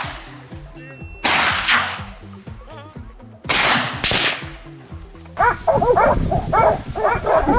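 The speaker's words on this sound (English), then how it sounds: "loud barking came from the south" Hunting dogs in a forest during a wild boar hunt bark in sharp, loud bursts, some overlapping, with cracking snaps between them and a busier stretch of barking toward the end.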